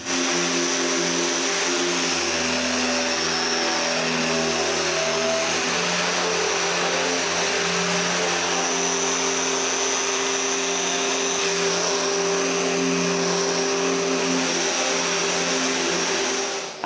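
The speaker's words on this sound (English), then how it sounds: "A linear sander is the ideal tool for the job." A linear sander runs continuously over a wooden bookcase, making a loud, steady motor drone with a buzzing hum. It stays close and even for the whole stretch, with no speech.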